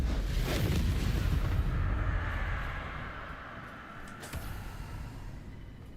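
A fiery Confringo spell blast in Hogwarts Legacy erupts as a loud, close boom, its roar lingering for a couple of seconds before fading into a long, dull rumble.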